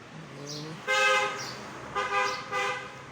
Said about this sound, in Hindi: सुबह सुबह रोड्स पे भी ये हाल है कि इतनी ज़ोर से हॉर्न देते हुए जा रहे हैं